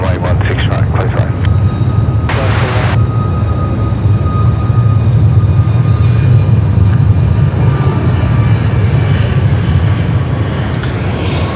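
A Malindo airliner takes off from runway 16 right at Sydney Airport, its engines producing a steady loud roar. Someone talks over it and radio chatter cuts in briefly.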